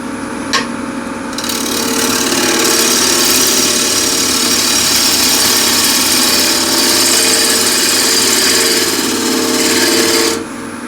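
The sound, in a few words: lathe turning a bowl with a gouge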